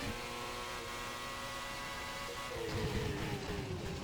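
A McLaren Formula 1 car in a racing video game at the Australian Grand Prix sweeps past under a steady engine drone, its high whine dropping in pitch as it goes by with a louder rumble at the end.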